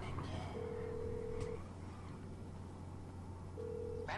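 A phone in GTA V Online dials out with long electronic tones, a sustained beep followed by another near the end, over quiet game background hum.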